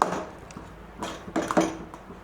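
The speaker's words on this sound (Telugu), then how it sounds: "మళ్ళీ ఇంకో స్పూన్ నెయ్యిని యాడ్ చేసుకున్నాం ఇలా మళ్ళీ కలుపుకుందాం" A metal spoon scrapes and clinks against a pan while stirring sago halwa with ghee, in a few short, close strokes with quiet kitchen background.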